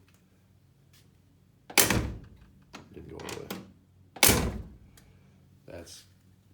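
A car door fitted with new door pins swings open and shuts twice with solid thunks, a short voice speaking between them.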